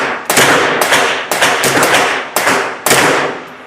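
Six sharp gunshots at a UK gun range, loud and close, spaced irregularly about half a second apart, each a crisp crack with a short decaying tail.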